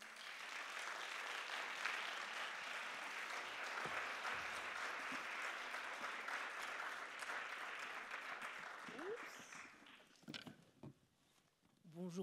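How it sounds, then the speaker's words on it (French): At a screening with filmmaker Emmanuelle Bercot, a cinema audience claps steadily, the applause thinning and fading toward the end as a few voices come through. "On les applaudit."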